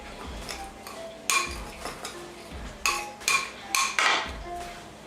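A spoon stirs a dry Cajun spice blend with cayenne pepper in a bowl, giving a run of irregular close clinks and light scrapes with short pauses between them.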